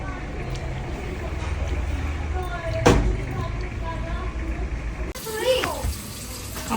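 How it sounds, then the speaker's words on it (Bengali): Tap water running while rice is washed in a kitchen, a steady splashing stream with a sharp clatter midway and brief bubbly trickles near the end, under talk. "ওই যে চাল একদম ধুয়ে নিলাম"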